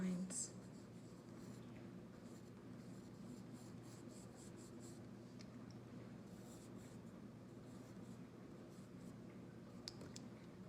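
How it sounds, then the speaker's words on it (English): Pencil sketching wavy lines for foliage on paper, a faint continuous scratchy rasp with small bursts, close but quiet over a steady low room hum. "I'm just going to draw some wavy"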